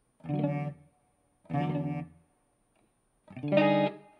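Three distorted electric guitar chords strummed one at a time, each ringing for about half a second with pauses between, loud and close.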